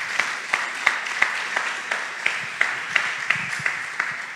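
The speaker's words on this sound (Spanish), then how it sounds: "Es para Dios ese aplauso, démoselo fuerte" Inside a church, a slow, regular series of individual claps sounds about three times a second, moderately quiet over a soft background of crowd noise.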